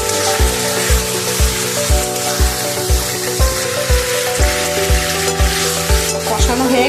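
Steady sizzle of spice paste with fried bitter gourd and prawns in a pan as water is added, a dense frying hiss with regular low thumps of stirring over a faint background hum.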